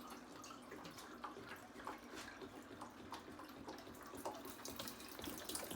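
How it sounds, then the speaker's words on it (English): Tap water runs steadily into a measuring cup over a kitchen sink, a continuous splashing, gurgling stream heard up close and alone at moderate level throughout. "I'm going to fill up my measuring cup."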